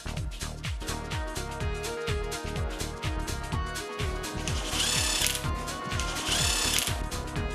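A power tool whirs and rattles in short repeated bursts while tightening bolts on a Bajaj Pulsar NS 200 motorcycle engine, loud and close with a busy mechanical chatter throughout.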